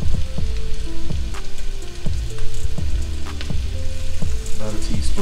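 Onions seasoned with sea salt and black pepper fry loudly in a pan, a dense close sizzle and crackle like rain with regular knocks and scrapes of stirring throughout.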